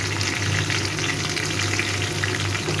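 Chopped ginger and potatoes frying in a pan for a simple white potato curry, a loud, steady, close sizzle that holds evenly with no pauses and no voices.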